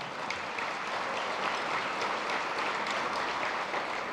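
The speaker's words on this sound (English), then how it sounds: "So round of applause for them." Audience applause at a chamber of commerce annual meeting: steady, dense clapping from a crowd, sustained and even throughout with no talk over it.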